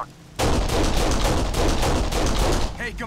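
Sustained automatic machine gun fire in the Kane & Lynch: Dead Men shooter game on PC, a dense, loud continuous burst of rapid shots lasting nearly three seconds before cutting off, with a brief quiet lead-in.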